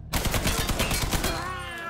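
Rapid bursts of automatic gunfire in the video game Mafia 3, loud and close, with dense repeated shots for about a second and a half before trailing into a ringing echo.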